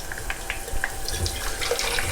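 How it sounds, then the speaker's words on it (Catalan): Mussel cooking liquid pours through a strainer in a kitchen, a steady close splashing trickle with small drips and no talking. "El que farem amb això és colar-los, perquè aquest líquid sobretot el necessitem."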